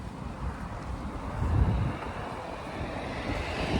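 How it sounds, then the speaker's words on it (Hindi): Strong wind blows steadily across an outdoor spot, a broad roaring rush with buffeting gusts against the microphone and no talking. "बहुत हवा चल रही है।"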